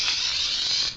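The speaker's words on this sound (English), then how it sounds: "spray-on oil for pans and stuff like that." Cooking oil spray hisses steadily from an aerosol can onto a 10-inch wet tile saw, one continuous close burst lasting about a second with no talking.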